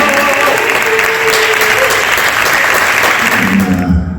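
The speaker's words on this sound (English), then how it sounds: "Please give a huge round of applause to Jesse King and Rebecca" Loud, dense applause from a festival audience after a Q&A session, many hands clapping steadily and close, then cutting off abruptly at the end.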